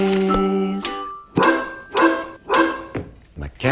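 In a playful song, a voice imitates a dog with four short, punchy barks in quick succession, loud and close, following a brief sung note.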